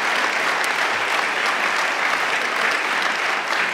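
Sustained, dense applause from an audience at a 200th anniversary ceremony of the Städel museum, steady and loud throughout with no voices over it.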